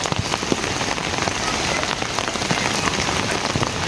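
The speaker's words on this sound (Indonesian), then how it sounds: "Ini saat turun hujan tuh Masya Allah" Steady rain pours down in a misty village in the late afternoon, drumming densely on surfaces nearby with scattered louder drops, loud and continuous with no voices.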